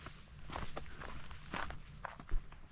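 Footsteps crunch down outdoor trail steps on the Ice Age Trail's Whitewater Lake segment, a steady close rhythm of distinct treads with no talking.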